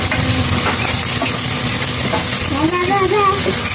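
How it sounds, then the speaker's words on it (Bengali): Tomato frying with onion paste in a pan for a spicy mutton curry, a loud continuous sizzle with faint stirring clinks throughout and no talk. "টমেটোটা একটু ভেজে দিই পেঁয়াজ বাটা দিচ্ছি"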